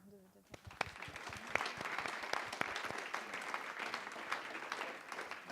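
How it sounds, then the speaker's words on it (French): Steady audience applause at a conference on AI and data, many hands clapping together in a dense, sustained patter that starts up quickly and continues throughout. "Et on vous applaudit avant de..."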